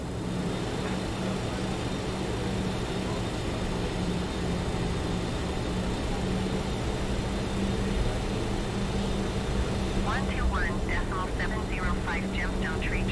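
A British Airways BAe 146 in Microsoft Flight Simulator 2020 spools up for takeoff on the runway at Manchester, a steady, loud jet roar holding throughout with a faint rising whine near the end.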